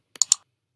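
Two or three quick, crisp mouse clicks sound close and clear while working in Photoshop CC 2017, with silence around them.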